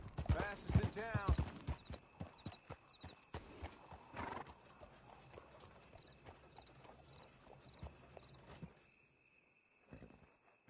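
A horse in the video game Red Dead Redemption 2 whinnies loudly at the start, then its hooves clop steadily on the ground against faint ambient game sounds.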